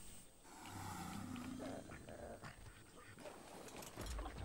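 A Bulbdog creature in the game ARK: Aberration makes low growling, whimpering dog-like sounds, faint and close, over a steady ambient game background with soft mechanical clicks.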